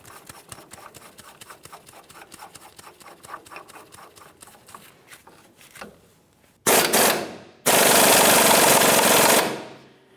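A ball joint press works a lower ball joint on a 2002-2005 Ford Explorer, first with a rapid train of ratcheting clicks, then two loud bursts of harsh, sustained pressing noise close by.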